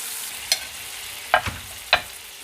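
A faint, steady sizzle of steak frying in a pan, with a few sharp clinks of a utensil against it.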